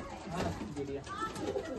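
Several pigeons coo softly in a home loft, low rolling calls overlapping in the background while a person talks nearby.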